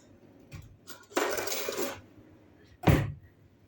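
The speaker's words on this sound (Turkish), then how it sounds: "Fırın kabımı da aldım." A baking dish is picked up and set down in a home kitchen, with a few soft knocks followed by a longer scraping rattle and a final sharp clunk.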